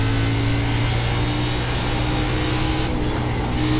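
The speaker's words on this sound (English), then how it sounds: "So I know it's a little loud with the car driving." A racing car engine in iRacing drones steadily at high revs while driving, a loud, even hum with strong harmonic tones and no talk over it.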